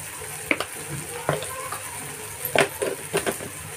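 Spice paste frying with chili masala and turmeric in a pan for a fresh cashew nut bhaji, a soft steady sizzle broken by a few sharp stirring scrapes, close and moderately loud.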